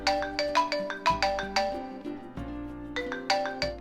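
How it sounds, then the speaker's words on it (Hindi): A melodic phone ringtone plays on its own, a bright chiming tune of repeated rising note phrases, moderately loud and close. "तभी निहाल को एक फोन आया।"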